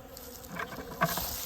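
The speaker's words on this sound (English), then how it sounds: "Bees are tearing up my fondant in my bucket." Bees buzz close around a bucket of fondant, a soft, wavering hum with a few louder passes as individual bees fly near.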